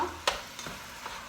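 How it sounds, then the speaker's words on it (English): Ground meat for chili simmering and frying in a pot, a soft continuous sizzle with a few stirring scrapes, quiet and close with no talking. "And the meat is simmering now."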